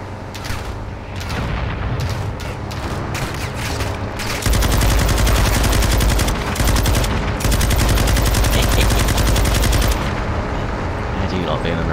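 Machine gun fire in Call of Duty: Modern Warfare 2 (2022) rattles loud and close. Short bursts give way to long sustained streams of rapid shots, with brief gaps between them.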